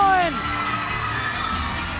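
Audience applause and cheering for the first-place winner at a show's final, a broad wash of clapping and crowd noise that rises as a voice fades out and then holds steady for two seconds.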